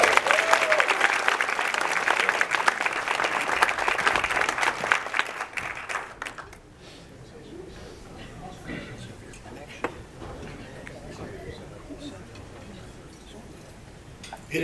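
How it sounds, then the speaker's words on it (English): An audience at a back-to-school scholarship event applauds the students in dense, steady clapping for about six seconds before it stops abruptly, leaving quiet room noise and faint murmurs. "And now we can applaud all of our students."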